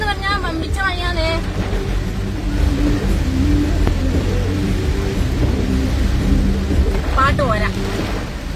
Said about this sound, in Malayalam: മഴന്ന് പറഞ്ഞാ വമ്പിച്ച മഴയാണേ.